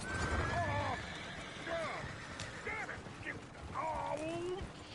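Horse whinnies and neighs from the game Red Dead Redemption 2, several high wavering calls repeating over the five seconds amid background game ambience and clatter.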